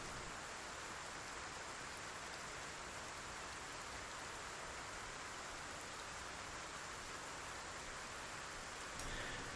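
Steady rain in a video game, a soft even hiss of falling water that holds faintly and unchanging from start to end.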